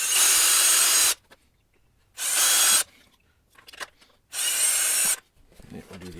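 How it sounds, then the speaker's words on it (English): Power drill boring holes through a rear fender extension during a Goldstrike kit install: three loud, steady bursts of about a second each, separated by pauses with faint handling noise. "We'll just drill these out carefully."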